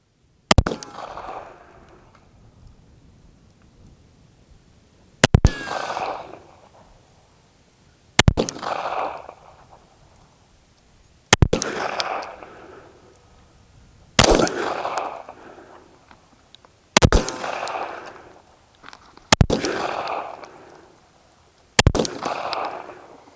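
Springfield Echelon Comp pistol fired outdoors in the cold, eight sharp, loud single shots spaced a few seconds apart, each with a brief ringing decay and no talk in between.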